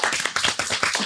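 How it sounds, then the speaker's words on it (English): A small group of people clapping on a podcast episode, brisk uneven hand claps close to the mic, loud and alone for about a second. "Let's clap that up."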